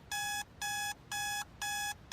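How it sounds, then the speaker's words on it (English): A small bedside alarm clock rings with piercing, evenly spaced electronic beeps, four full bursts and a fifth starting, close and loud in an otherwise quiet room. "His hands fumbled for the small clock, probing for the snooze button, desperate to stop the piercing noise that was wreaking havoc on his brain."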